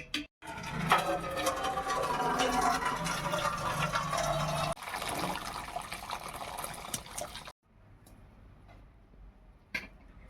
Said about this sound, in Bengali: এবারে ভাতটাকে আমি নামিয়ে ভাতের ছানাটাকে ঝরিয়ে নেব।